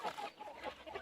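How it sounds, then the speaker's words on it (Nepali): Local chickens at a chicken farm cluck in short, soft, uneven bursts, faint and somewhat distant. "यो लोकल कुखुरा पालेको ठाउँमा आएको छु"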